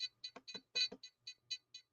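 A radio transmitter used with a brushless ESC on a hobby setup gives a run of short, quiet electronic beeps in an irregular rhythm, about ten chirps over two seconds with no talking.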